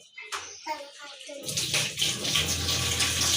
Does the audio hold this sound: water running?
yes